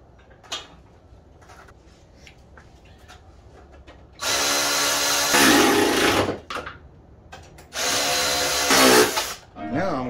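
On a 2011 Chevy Impala, a power tool drives in the fan shroud's top bolts: two loud, whirring bursts of a few seconds each, close by, separated by quieter shop background and small clicks.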